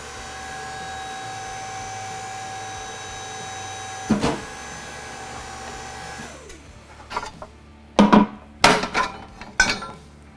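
A thin wall roller tube bender works 1 5/8 inch .083 wall 4130 chromoly tubing, a steady mechanical hum running for several seconds, then loud metallic clanks and knocks at close range as the bend finishes.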